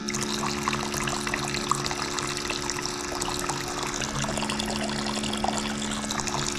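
A rechargeable pump fitted to a 5 gallon water tank dispenses water in a steady stream, pouring continuously at close range over a faint motor hum.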